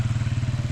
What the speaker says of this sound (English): Oh, the motorbike.